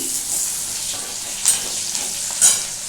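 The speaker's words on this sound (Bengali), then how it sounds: "দেখো বন্ধুরা, পেঁয়াজটা আমি একটু ভালো করে ভাজছি।" Onions frying in a pan for a bottle gourd and prawn dish, a close steady sizzle with two brief metallic scrapes of a stirring spoon.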